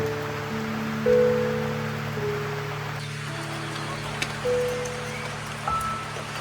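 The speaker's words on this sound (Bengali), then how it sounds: "বৃষ্টিটা বেশ জোরেই নামলো।" Heavy rain pours on a hill village near Kalimpong in North Bengal, heard from beneath a roadside shed as a steady, dense hiss with a faint tonal hum running underneath.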